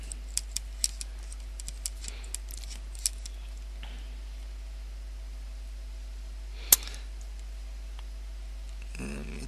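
Keys clatter on a computer keyboard in an office-software setting: irregular bursts of clicks in the first few seconds, a single sharp louder click near the middle, then a quieter scrape at the end.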